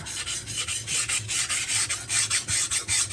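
A knife is drawn back and forth over a Suehiro Debado whetstone, 600 and 1500 grit, in quick, regular rasping strokes, about three or four per second, close and alone.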